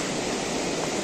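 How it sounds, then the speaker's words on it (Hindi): A waterfall pours in the snowy Lahaul valley near Manali, making a steady, dense hiss and roar with no pauses and no voices, heard for about a second. "झरने"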